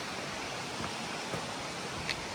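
A brook rushes along the Appalachian Trail, a steady broadband roar of flowing water heard close and continuous with no voices.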